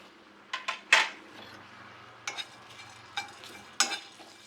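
Cumin and pepper being cooked in a pan for chutney give a few sharp clinks and scrapes as a spoon stirs them, spaced out over a quiet, faint sizzle.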